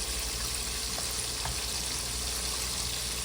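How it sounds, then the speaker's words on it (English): Seasoned chicken wings fry in hot oil with a steady, dense sizzle and crackle that holds at an even level throughout, with no voices. "once they start frying"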